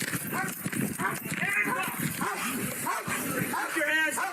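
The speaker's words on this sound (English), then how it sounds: "Listen to the dog." A dog barks repeatedly and loudly nearby during a tense police encounter at a house, the barks overlapping with urgent shouted commands from officers.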